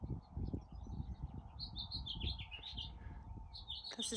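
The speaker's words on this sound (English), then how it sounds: "I hear you, birds" Small birds chirp and twitter at dawn in the Joshua Tree desert, bright quick calls over a low rumble of distant traffic, fairly faint.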